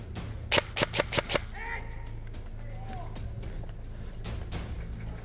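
Airsoft guns fire through a window on a skirmish field with a hay shed, a quick burst of five or six sharp cracks near the start, followed by faint voices and scattered distant pops.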